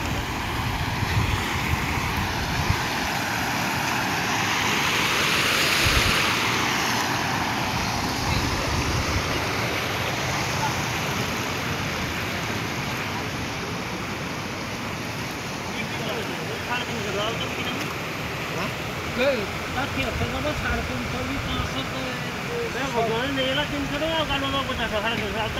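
Floodwater of the Subarnarekha river rushes along in a steady, broad roar, loud and continuous throughout, with people talking over the flow in places.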